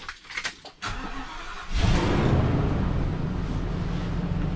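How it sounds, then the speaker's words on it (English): A parked motorhome's engine cranks briefly and catches after some quiet handling noises, then settles into a loud, steady idle that runs on alone. "So we're going to start the engine up."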